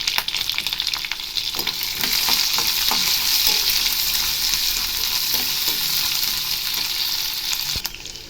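Onion, green chili, garlic and ginger fry in a pan for a tomato-free, coconut-free chutney, giving a steady, bright sizzle and crackle that runs the whole time, with a few faint stirring clicks and no voices.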